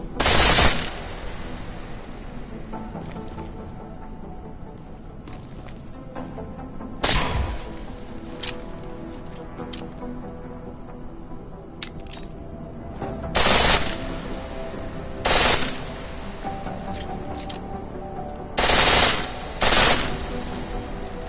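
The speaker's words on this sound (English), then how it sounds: "The pistol in full auto will take down targets fast, but it'll burn through your ammo." Short, loud bursts of full-auto pistol fire in Deus Ex: Mankind Divided, several rapid rattling volleys separated by quiet gaps of a few seconds, each with a sharp, bright attack.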